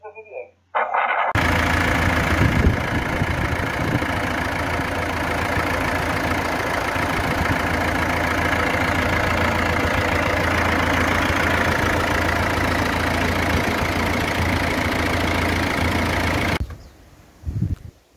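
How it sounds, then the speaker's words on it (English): A steady Ford 8N tractor engine idles loudly and continuously, a low droning rumble with a faint mechanical clatter, cutting out near the end. "Another one of your, your fabulous tractors, Dennis."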